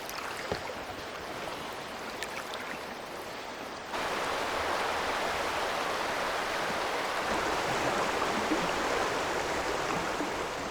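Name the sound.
river rapids rushing around a canoe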